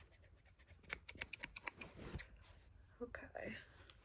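Scissors snip hair during a close-up ASMR haircut, a quick run of crisp, crunchy cuts followed by a few more snips, with soft whispered speech over them.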